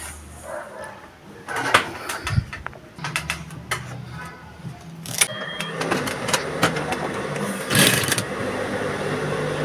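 Sewing machine stitching a corset with a deep neckline and yoke, close mechanical whirring in uneven bursts broken by clicks and handling noises between runs of stitching.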